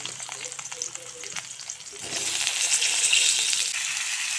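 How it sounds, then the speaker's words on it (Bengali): Potatoes fry in oil already used for eggplant. Quieter stirring and scraping give way to a loud, continuous sizzle partway through, heard close up with no talking. "এখন একই তেলে আলু ভেজে নেব।"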